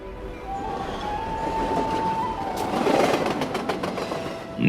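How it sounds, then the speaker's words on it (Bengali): A train pulls away from a station platform with a steady rolling rumble, a long thin squealing tone, and a run of rhythmic wheel clacks building toward the end, close and continuous with no voices. "কিছুক্ষণের মধ্যেই ট্রেন ছেড়ে দিল"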